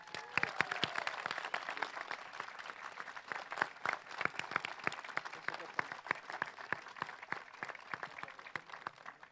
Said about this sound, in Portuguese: eu quero uma salva de palmas para os noivos